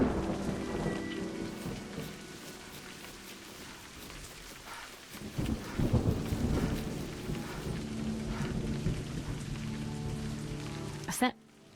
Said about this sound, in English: eventually the storm blows itself out.